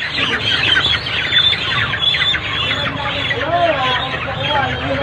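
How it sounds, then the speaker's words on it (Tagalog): Many chickens at a farm clucking and chirping continuously in a busy, overlapping chorus, fairly close, with people talking over them. "Ang daming manok guys, oh."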